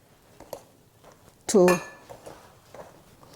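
Rock cake ingredients being mixed in a bowl: soft scraping and light clinks of a spoon, then one louder metallic clank of utensil on bowl midway, close by, with brief talk nearby.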